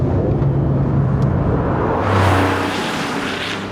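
A loud Porsche 911 Turbo S engine roars steadily, then surges higher as it revs up toward 7,500 RPM, close and sustained throughout.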